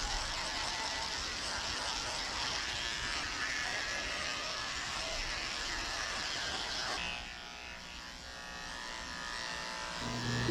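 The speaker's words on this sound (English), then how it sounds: "I'm shaving her tail and her ears also." Electric clippers shaving a Cockapoo dog's tail and ears during grooming, a steady close-up high buzz that shifts pitch partway through as the blade moves over the fur.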